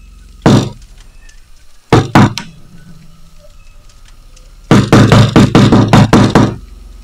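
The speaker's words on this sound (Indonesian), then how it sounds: "mendengar sebuah suara ketukan. Pelan, ritmis, namun terasa mengganggu." Slow knocks sound on a door in a horror story: one knock, a pause, a double knock, then a steady run of about seven loud, evenly spaced knocks over a quiet background.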